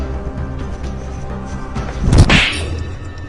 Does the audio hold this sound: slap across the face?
yes